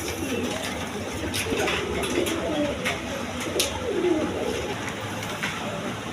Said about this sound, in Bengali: এইখানে এক পেয়ার রেড কালার বোম্বাই কবুতর আছে